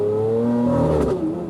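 A sports car engine revving hard through its gears, a loud, steady tonal growl with the pitch climbing and then dropping, ending in a brief crackling backfire pop, close up and alone.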